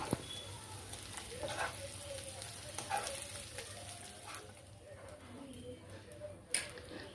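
Paneer pieces frying in oil and ghee in a pan: a steady soft sizzle running throughout, fairly quiet and close, with an occasional louder pop or clink.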